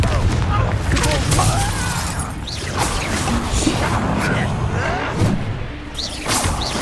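Bombarda and Confringo spell blasts in the Hogwarts Legacy video game, a loud, continuous barrage of booms, whooshes and crashing impacts, with voices heard in the fray.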